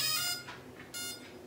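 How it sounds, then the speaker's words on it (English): Electronic beeps from a quadcopter's speed controller entering throttle calibration mode: a long steady tone, then a short second beep, harmonically rich and fairly loud, with no talking. "Made an extra beep to show it's in calibration mode."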